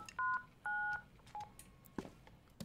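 A telephone number is dialed in a video game, with a few distinct keypad tones sounding as clear separate beeps of varying length, followed by faint clicks and a brief knock, with no voices.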